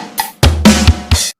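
A real drum kit beat at standard tempo, with kick, snare, hi-hat and crash striking in four sharp, loud hits over about a second, then silence.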